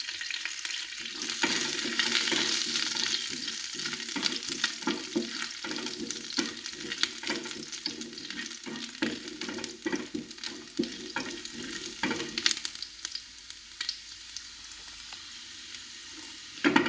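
Four or five garlic cloves fry in a pan for a tomato curry, giving a dense, close sizzle with constant crackling and frequent stirring clatter, easing slightly near the end.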